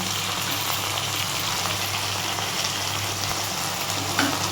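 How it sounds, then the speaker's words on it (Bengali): Ginger-garlic paste frying with spices in hot oil for a chicken dish, giving a steady, even sizzle close by with a faint hum underneath and no voices. "এবারে আদা রসুনের পেস্ট দু চামচ দিয়ে দেবো"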